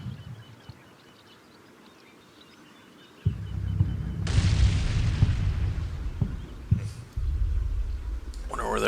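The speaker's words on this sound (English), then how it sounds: "Wonder where their explosion came in from." An explosion in the Combat Mission tank-battle video game brings a sudden deep boom, followed by sustained low rumbling and hiss after a quiet start. A second low thump comes near the end.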